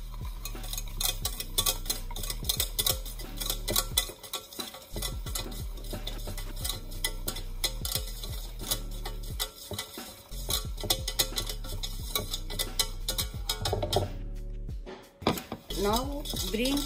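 A spoon stirs water into a cake mixture in a metal pot for an Easter cake, with constant close scraping and clinking against the pot and brief pauses, loud and busy throughout.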